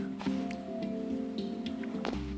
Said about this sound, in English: And I'm gonna commence the watering.